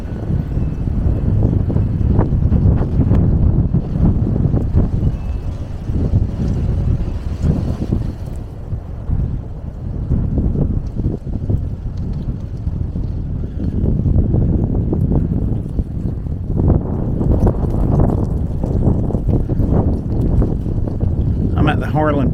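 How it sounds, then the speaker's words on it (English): Strong, gusty wind roars outdoors under power lines during an Arctic cold snap in Harlan, eastern Kentucky, buffeting the microphone in loud, sustained rumbling blasts that hardly let up. "it's a little unnerving to be out here and wind this high under power lines"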